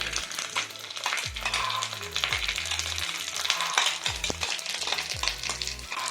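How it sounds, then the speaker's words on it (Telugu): Ground pepper and cumin masala frying in a pan for rasam, a steady close sizzle with scraping stirs and occasional clinks of a spoon against the vessel. "ఇది కొంచెం లైట్గా అలా వేగించేసి"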